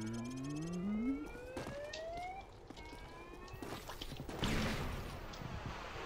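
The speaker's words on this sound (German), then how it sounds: "Alarmanlage aus." An alarm system sounds in Call of Duty Modern Warfare 2, rising and falling siren tones sweeping upward before cutting out, followed by scattered game effects and a brief burst of noise.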